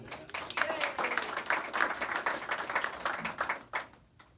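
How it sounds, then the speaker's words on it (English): An audience at a foundation's tenth anniversary celebration breaks into sustained applause, steady crowd clapping lasting several seconds before tapering off. "Give a round of applause."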